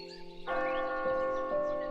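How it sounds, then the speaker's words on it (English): A church bell strikes about three times in the Swiss countryside near Interlaken, each ring resonant and lingering, sounding somewhat distant across a valley in quiet early-morning surroundings. "It began with church bells echoing across the valley"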